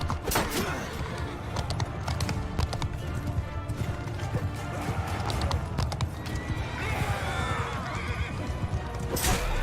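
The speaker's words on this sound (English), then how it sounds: "Oh, a horse." Horse neighing in Mount & Blade 2: Bannerlord amid battle, loud whinnies over galloping hooves and clashing combat noise, with faint voices in the mix.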